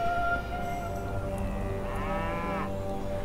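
Cattle mooing in the strategy game Civilization 5, a drawn-out lowing call with rising and falling harmonic bands over a steady background of game music and ambience.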